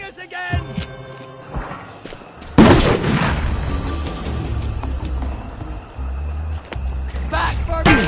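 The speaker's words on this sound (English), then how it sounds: "They're bombing us again!" Bombing raid with heavy explosions: a sudden loud boom bursts in, followed by a sustained rumbling roar and low throbbing blasts, with shouting voices over the din.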